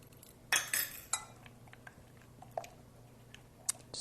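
Spoon stirring a homemade dipping sauce for sweet potato fries in a bowl, a few soft clinks and scrapes against the dish, faint and close.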